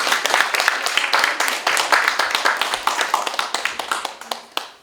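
An audience at a forum on transport fare support for seniors, children and teens claps together in a dense, lively round of applause that fades toward the end.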